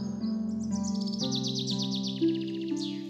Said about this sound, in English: a colorful bird flew above her